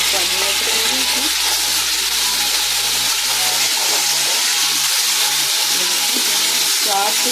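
Spices sizzle and fry steadily in a pan for a goat trotters (mutton paya) curry, a close, continuous hiss with soft stirring scrapes and low rhythmic knocks throughout.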